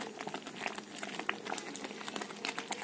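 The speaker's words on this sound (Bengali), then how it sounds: "ভিনিগার দিয়ে আরেকটু ফুটিয়ে নেব।" Tomato sauce with vinegar added boils in a pan, giving a steady, dense bubbling and popping close by that continues without pause and with no voices.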